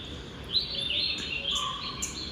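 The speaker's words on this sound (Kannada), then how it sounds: "ಇವತ್ತು ಪಕ್ಷಿಗಳು ಸಖತ್ತು ಸೌಂಡ್ ಮಾಡ್ತಾ ಇದೆ" Birds chirp in the morning, giving a scatter of quick, high tweets and trills at moderate distance over a soft, steady background, with no talking.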